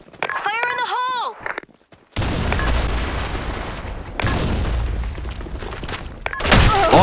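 A grenade blast in the Counter-Strike Office map: after a short voice line, a loud, dense, rumbling explosion and gunfire roar across most of the clip, with a second burst and a final sharp surge near the end.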